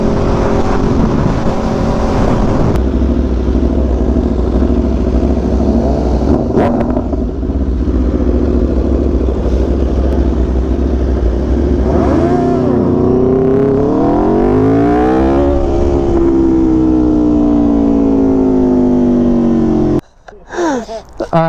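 BMW S1000RR superbike on a drag setup with air filter and exhaust tune idling loud and close, revs rising and sweeping in pitch before cutting off abruptly near the end, a voice faintly under the engine noise.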